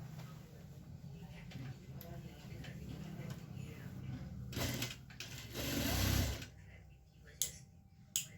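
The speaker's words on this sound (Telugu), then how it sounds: "బాగా దీన్ని స్టిచ్చింగ్ చేసుకుందాం." A sewing machine stitches a resized shirt, taken in from size 42 to 36, with a low steady motor hum and faint ticking through most of the clip and a louder surge near the end.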